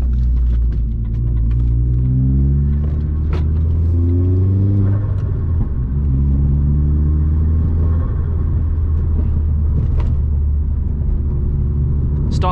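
Vauxhall Astra VXR engine pulling hard in third gear, a loud, steady drone heard from inside the car whose pitch climbs as it accelerates, with brief dips between surges.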